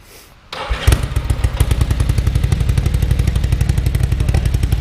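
A 1987 Ducati F1 750 TriColor race bike fires up after a brief pause and settles straight into a loud, close, steady idle with a rapid, even pulsing beat.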